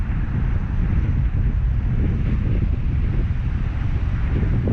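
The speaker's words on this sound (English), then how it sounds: "now the wind's in our face when it was blowing behind us just a few minutes ago" Steady, loud wind buffeting the microphone at a small retention pond, a continuous low rumbling roar with no let-up and no voices.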